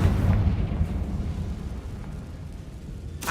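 A Confringo spell explosion in the video game Hogwarts Legacy: a heavy, rumbling blast opens loud and decays slowly over a few seconds, with a brief sharp pop near the end.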